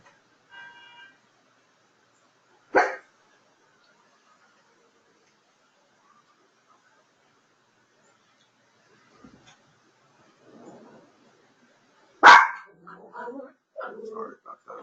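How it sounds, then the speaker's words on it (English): A dog barks during a thunderstorm at home: one sharp bark, a long quiet gap, then a louder bark followed by whimpering, yelping sounds close by. "I got a dog that barks every time it thunders."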